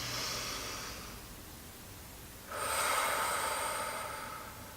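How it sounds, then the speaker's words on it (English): Slow, deep meditative breathing during a grounding practice: one long soft airy breath fades out, then after a pause a second, louder and breathier one starts, close to the microphone with no talking. "breathing in, I know I'm breathing in. Breathing out, I know I'm breathing out."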